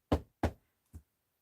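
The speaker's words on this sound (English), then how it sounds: "Knock on wood." Three knuckle knocks on wood, close and distinct: two quick raps and then a softer third after a short pause, with silence in between.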